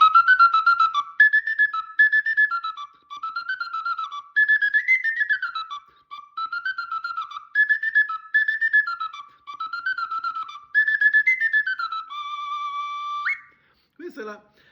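A Sicilian friscaletto flute plays the first part of the tarantella La Messinese in lively, bouncing phrases of repeated notes, clear and close, ending on a held tone before a brief low sound.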